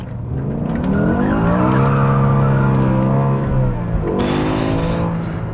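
A BMW M5 E60 with its V10 engine revving hard, the loud rising wail climbing and holding near, then dropping and surging again, with tire noise underneath and no talking.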